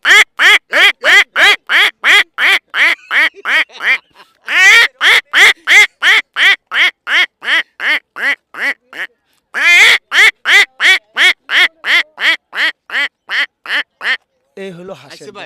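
A person imitates a duck with a long series of loud, close, nasal quacks in rapid even bursts, pausing briefly twice and ending with a short different call.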